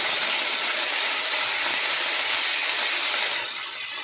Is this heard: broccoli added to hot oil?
yes